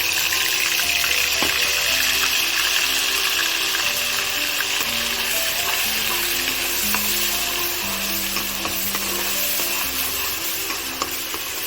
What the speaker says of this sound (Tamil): இந்த வெங்காயம் நல்லா கொஞ்சம் வதங்கி வரட்டும்